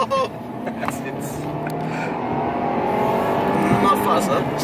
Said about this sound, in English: In terms of performance, this car is at home when you're driving like this.